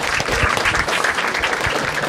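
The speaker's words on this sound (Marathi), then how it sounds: "एकदा टाळ्या वाजायच्यासाठी" A live audience at a Marathi stand-up comedy crowd-work show breaks into dense, sustained applause, many hands clapping together in a loud continuous wash with no speech over it.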